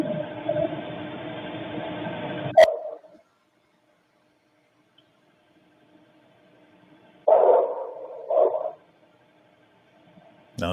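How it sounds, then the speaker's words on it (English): A dog barking inside a house, heard as a played-back recording: a muffled, somewhat distant bark after a stretch of noise, then a quiet gap and two more short bark bursts. "Another bark inside."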